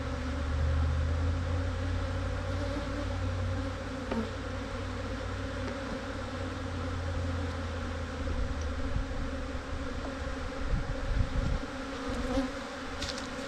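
An aggressive swarm of bees around a torn-down beehive, a dense and unbroken buzzing drone that stays loud and close throughout, with occasional bumps and rustles and no speech.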